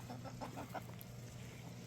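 Several hens cluck in a quick run of short calls, faint against a steady low hum.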